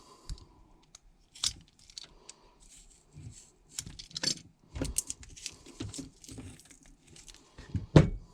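Magic pliers snip through wire with sharp, isolated snaps and clicks spaced a second or so apart, one especially loud cut near the end, over a quiet background of small handling rustles.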